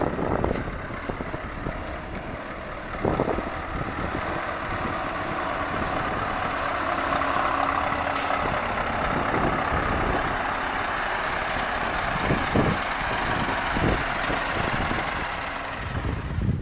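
A Scania Silver Knight truck, one of only 20 made, rumbles with a steady engine drone outdoors amid wind noise on the microphone, with a few louder thumps and bumps along the way.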